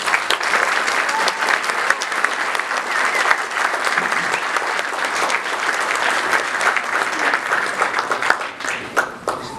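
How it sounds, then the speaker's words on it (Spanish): A crowd at a cultural journalism award ceremony gives the category winner a loud, continuous round of applause, dense clapping filling the room from start to finish. "Recibamos con un fuerte aplauso al ganador de esta categoría,"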